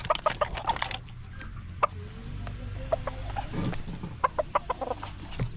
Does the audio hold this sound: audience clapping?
no